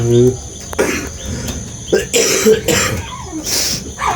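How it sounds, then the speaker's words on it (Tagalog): Several harsh, close coughs and throat-clearing bursts come in uneven clusters, with crickets chirping faintly in the background between them. "Inuubo ka na po"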